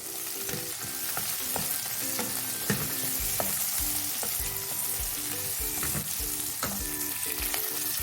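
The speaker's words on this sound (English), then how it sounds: "Now I am also going to add the poppy seeds, the cloves and the pepper. We'll save the dhania powder for later. Give this a good mix again." Poppy seeds, cloves and pepper sauté with a steady close sizzle in a pan for village-style chicken curry, while a spoon stirs and knocks against the pan in a regular rhythm and no one speaks.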